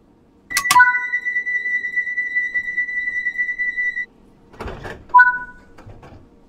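Doors of a 1972 Mk II London Underground tube train in Train Sim World 3 closing and locking: a sharp double chime, a sustained warning tone, then a thudding slam and a final short beep.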